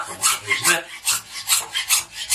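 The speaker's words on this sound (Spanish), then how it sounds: "cogemos nuestro serrucho y le cortamos el hueso" Handsaw rasping back and forth through goat bone for roasting, about eight rhythmic close strokes, with a brief spoken phrase between them.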